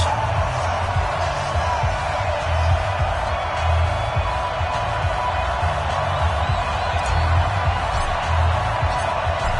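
A stadium crowd in an NFL video game, Texans versus Titans, gives a steady, distant roar of cheering that holds evenly throughout with faint whoops mixed in, and no voice rises clearly above it.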